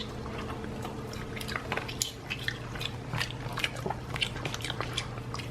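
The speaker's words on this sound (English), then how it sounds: "Luna, do you wanna do some ASMR with your ice?" A dog crunches and gnaws on a piece of ice up close, irregular crisp bites and wet squishing sounds repeating over a steady low background hum.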